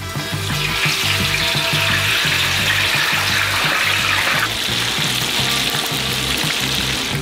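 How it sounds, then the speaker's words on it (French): Potatoes plunged into hot oil in a huge pot, like an enormous fryer, sending up a loud, continuous bubbling sizzle that stays dense and close, dipping slightly partway through. "Dans l'huile chaude, nous plongeons nos pommes de terre."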